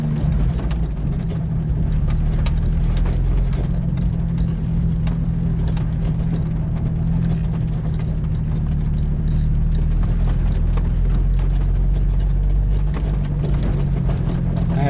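A Jeep Wrangler YJ engine lugs in second gear along a trail, giving a steady, deep low rumble that holds evenly throughout with no voices.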